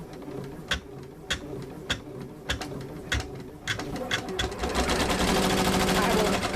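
An embroidery machine sews a name onto a baby onesie, heard as fast repeated mechanical clicking and ticking that builds into a denser, louder continuous whir near the end.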